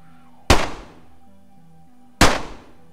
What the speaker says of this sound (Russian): Рандомный выстрел.